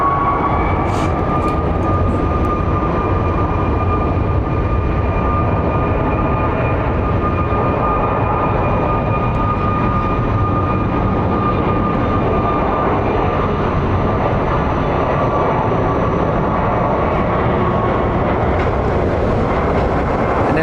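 An airliner taking off at Phoenix Sky Harbor airport produces a steady, loud, continuous jet roar with a whining tone that holds for the full stretch without break.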